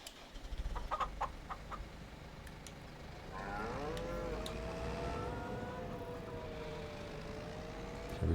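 Cattle moo in drawn-out, wavering calls over a steady ambient bed, with a few brief clicks near the start, in the video game Farming Simulator 25.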